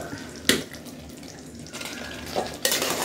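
A wooden spoon scraping and lifting cooked tomato rice from the bottom of a pot gives sharp clinks and scrapes, three distinct knocks spaced across the moment, against a soft kitchen background.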